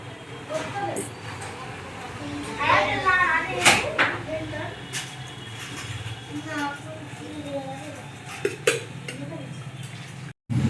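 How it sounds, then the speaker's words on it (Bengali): Boiled radish greens are strained from a pot in a home kitchen, with clanking metal, scraping utensils and dripping water in irregular bursts beneath someone talking. "এবারে শাকগুলোকে ছেঁকে তুলে নেব। জলটাকে ঝরিয়ে নিচ্ছি।"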